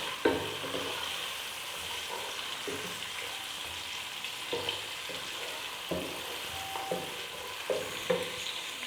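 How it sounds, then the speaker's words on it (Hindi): Almonds and other ingredients roast lightly in a pan with a soft, steady sizzle, broken by repeated close scrapes and knocks of a stirring spoon, fairly quiet and without talk. "इन सारी चीज़ों को मैं थोड़ा सा, बिल्कुल थोड़ा सा रोस्ट करूँगी, बहुत ज़्यादा नहीं करना।"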